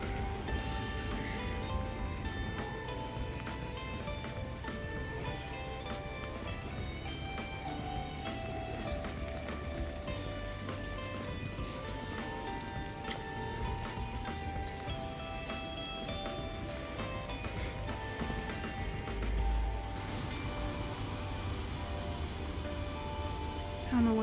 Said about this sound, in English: It is raining, if you couldn't tell.